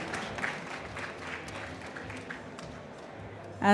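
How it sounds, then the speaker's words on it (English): Applause from the audience at a conference panel on payments in Africa, moderate and fairly steady, with a louder burst at the very end. "Can we just have another round of applause?"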